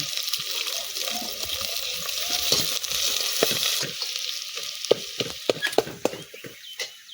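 Onions sautéing in a pan for a cowpea pulao, a steady frying sizzle with scattered stirring clicks and scrapes growing sharper toward the end.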